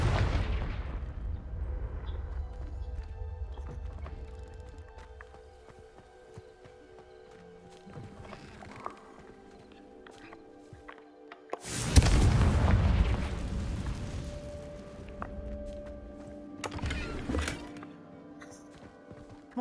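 The Confringo fire spell in Hogwarts Legacy lets off a deep, loud booming blast with a roaring rumble, after several smaller thuds and crackles, then a second, sharper burst; no talk.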